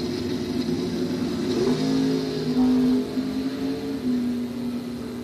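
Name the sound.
drag race cars accelerating, Camaro versus 1978 Chevy Malibu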